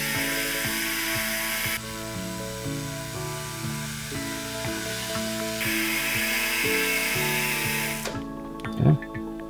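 A dental handpiece polishes an E.max crown with a fine DiaShine polisher at about 7,000–8,000 RPM, giving a continuous high whine with rhythmic pulsing as the tool is pressed and lifted, then a brief clatter near the end.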